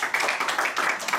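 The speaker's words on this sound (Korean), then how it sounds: "여기까지 동의하시면 박수 한번 쳐주시고." Clapping from a lecture audience at a maritime university talk on happiness, a short burst of close, quick, irregular hand claps lasting just over a second, with no speech over it.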